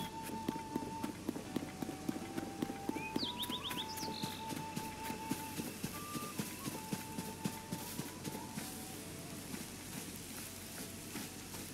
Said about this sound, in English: I spotted the horses over here